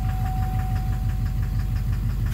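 A Duramax LMM diesel in a pickup with an Allison transmission, suffering a knock, runs steadily after being shifted into gear, with a dense, rhythmic low-end clatter and a faint high whine, close and continuous without voices.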